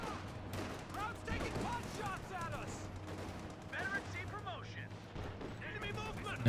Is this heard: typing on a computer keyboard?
no